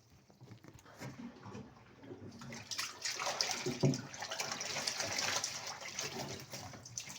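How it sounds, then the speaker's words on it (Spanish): Dirty water drains out of a Haier twin-tub washing machine, a steady gushing, splashing flow that starts soft and grows louder and fuller after a couple of seconds, continuing without talk. "Luego drenamos esta agua para que salga el sucio."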